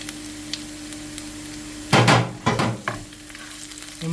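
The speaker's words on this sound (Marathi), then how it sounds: "हे मातशें भाजून घेता." Ginger and slit green chillies fry with chicken in a pan. A low hum gives way to a sudden burst of sizzling and spatula clatter, then two shorter sizzling bursts that fade out.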